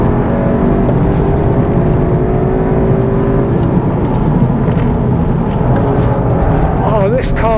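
A Cupra is pushed hard around a race track chasing a 400 horsepower Audi RS3, its engine droning loudly with rising revs and a sharp pitch sweep near the end, heard close from inside the cabin.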